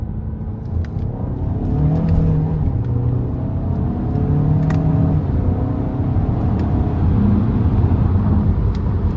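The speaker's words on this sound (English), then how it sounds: "We'll give it some throttle here." A 2022 Kia Sorento SX-Prestige with the 2.5-litre turbo engine and dual-clutch transmission accelerates hard, a steady close engine drone rising through the gears over constant road rumble, with no talk.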